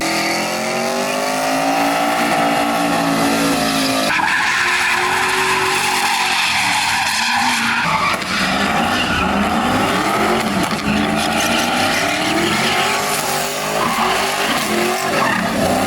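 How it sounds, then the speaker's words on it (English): Cars doing burnouts and donuts, revving hard with loud, continuous tire squeal and skidding, engines rising and falling in pitch over several seconds. "we're gonna take a look at some of the cool cars doing burnouts and donuts"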